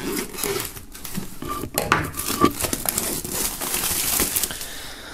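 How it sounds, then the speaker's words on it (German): Plastic foil peeled and crinkled off a boxed music set, steady rustling and scraping close up, with a few brief clinks and no voices. "wir machen wie immer die Folie ab."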